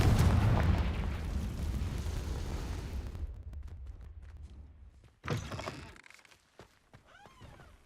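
The Confringo explosive spell cast in Hogwarts Legacy video game: a loud rumbling blast that fades after about three seconds, followed by a sharp secondary burst and scattered crackling debris, no talk.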